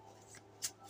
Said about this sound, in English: I'm going to go ahead and shuffle to get just a few